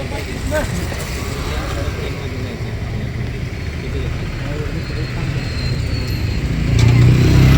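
A shared auto rickshaw engine idles and rumbles steadily nearby, low and continuous, swelling louder near the end as it revs.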